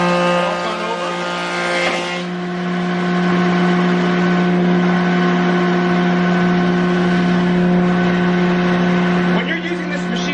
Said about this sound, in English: We're ready to turn the planer on and surface this.